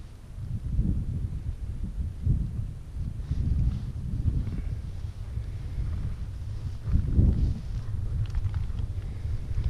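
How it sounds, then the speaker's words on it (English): Steady wind buffeting on a hilltop in the Lowther Hills, Southern Uplands, a low rumbling roar with gusts swelling and fading, strongest around the middle and near the end. "It is quite windy up here"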